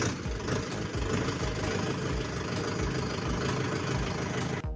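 A Mahindra 585 YuvoTech+ 50 HP tractor engine runs steadily while the tractor is driven, a dense, continuous diesel rumble that stays loud and close throughout.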